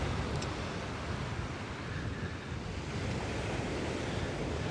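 Ocean surf washes onto the Coney Island beach in a steady, broad roar, mixed with wind buffeting the microphone and no voices.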